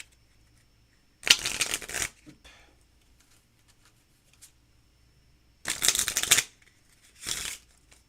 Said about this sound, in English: We'll give it one more shuffle.